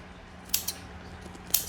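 A few sharp, close snips of scissors trimming around a Morkie puppy's paw, spaced irregularly over a quiet background.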